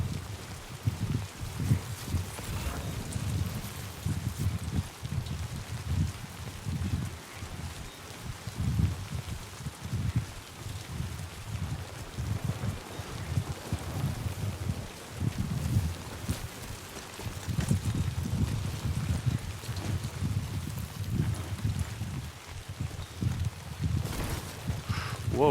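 Steady rain falling in the video game Death Stranding 2, a continuous wash of pattering drops with low rumbling texture, moderately loud and unbroken throughout, with no voices.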